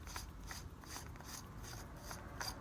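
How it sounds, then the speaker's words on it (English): Threads of a screw pommel being turned off an Electrum Sabercrafts EvoFlex lightsaber hilt, giving a quiet, close series of repeated ratcheting, grinding clicks in a steady rhythm. "this is their first run at the screw pommel. So you just unscrew it."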